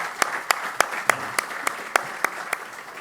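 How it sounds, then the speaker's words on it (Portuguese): Sparse applause at a coaches' congress session: about ten distinct, sharp claps in an irregular but fairly steady rhythm, close and moderately loud over a quiet room. "acho que merece uma salva de palmas."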